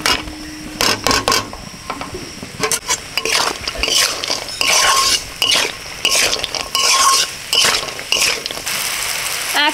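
Ghee-coated vegetables are stirred in a pan with fried cashews, nuts and raisins while making a chira pulao. A spoon scrapes and clinks against the pan in repeated close strokes, with a light sizzle underneath.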